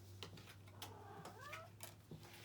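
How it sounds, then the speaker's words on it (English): A house cat named Major Tom meows in a quiet room, a few short rising and falling calls spread over a couple of seconds beneath a steady low hum. "Sorry for the cat that's been meowing the whole time."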